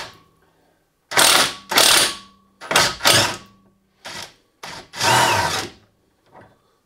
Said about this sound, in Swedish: Så drar vi skruven här med en muttersmack, eller kan man behöva en breaker bar först då.